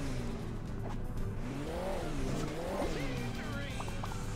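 A supercar driving in the mobile video game Hill Climb Racing 2, its engine revving up and down with wavering pitch, accompanied by tyre squeal and steady game background sound.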